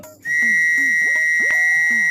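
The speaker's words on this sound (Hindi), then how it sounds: "मैनेजर साहब के सीटी बजाते ही" A manager blows a whistle, a sustained, loud, shrill tone held steadily after a short quiet start.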